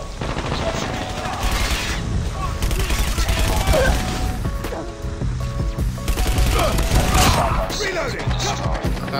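A submachine gun on Nuketown in Call of Duty Mobile lets off repeated rapid bursts of automatic fire over busy match noise, loud and near, with someone talking over much of it.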